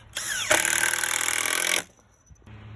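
A power drill drives screws into pressure-treated decking boards, giving one loud sustained whirring burst of just over a second that stops abruptly, followed by quieter handling noise. No one speaks.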